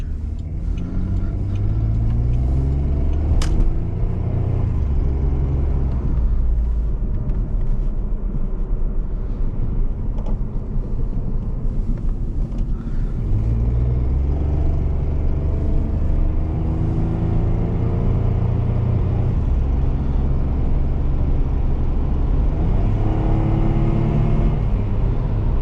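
A 2005 Chevrolet Malibu LS V6 accelerates on the road, its engine note climbing steadily in repeated rising sweeps as it pulls through the gears, loud and continuous from inside the car with no talking.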